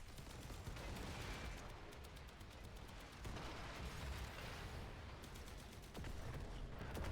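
Rapid automatic gunfire in a video game while shooting at the legs of a large enemy, dense fast bursts of shots over constant battle noise, with short pauses between volleys.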